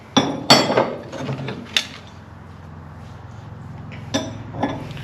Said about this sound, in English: you got some Ford wrenches, but they're pretty crusty.